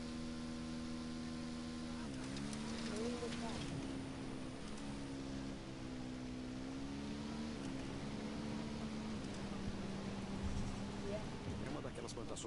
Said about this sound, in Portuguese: Vou pegar a moto.